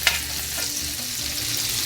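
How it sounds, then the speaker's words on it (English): Finely chopped onions sizzle steadily in hot grease while being stirred around the pan, a close, continuous frying hiss with soft scraping movements and no voices. "I'm gonna move them around so they can release their flavor into the grease."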